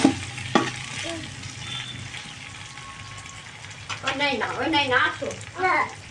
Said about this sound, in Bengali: সবজির সাথে আমি একটু নেড়ে নেব।